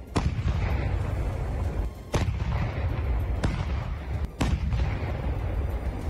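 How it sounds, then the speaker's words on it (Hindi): Russian artillery guns firing in war footage: four heavy booming blasts spaced about two seconds apart, each a sharp loud crack that rolls into a long rumbling tail under constant low battlefield noise. "रूस की तोपें ऐसी गरजती दिखी मानो यूक्रेन का खून पीने के लिए तड़प रही हों"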